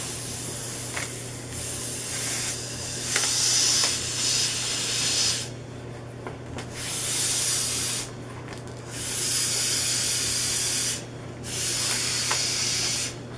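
Compressed air from a compressor line hisses in repeated bursts of a few seconds each, separated by short pauses, loud and close, during model-making work, with faint handling knocks between bursts.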